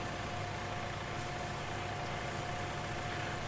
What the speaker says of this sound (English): Looks like the tractor's moving.